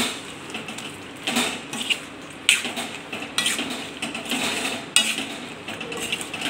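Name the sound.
stirring peanuts into sugar syrup in a pan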